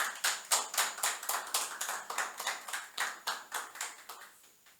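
A small audience claps at a youth-space entrepreneur presentation, with steady, rhythmic hand claps that repeat evenly and sound close and fairly quiet, with no voices over them.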